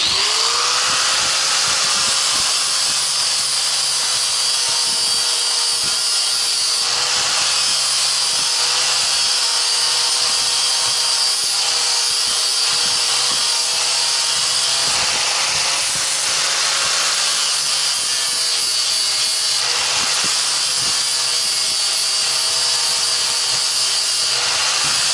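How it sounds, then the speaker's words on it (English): Angle grinder shaping a wooden guitar neck for a custom guitar, a loud continuous abrasive roar with a steady motor whine that swells and eases slightly as the disc presses into the wood. "I like to use my secret weapon, which is the angle grinder, so I'm going to demonstrate that right now."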